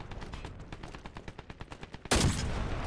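Gunfire in the Dirty Bomb shooter: a rapid, evenly spaced string of shots rattles along, then one much louder, sharp rifle crack cuts in and rings out.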